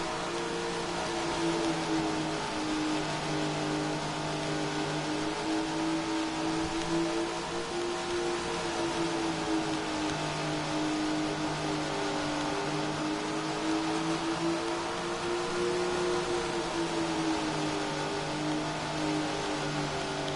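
Sprint car engine in the Tony Stewart Sprint Car Racing video game: a loud, steady racing drone whose pitch gently rises and falls throughout, with no talking.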